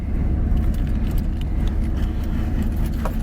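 Car interior engine and road rumble heard from inside a moving car, a steady low drone with faint rattles and clicks throughout, no talking.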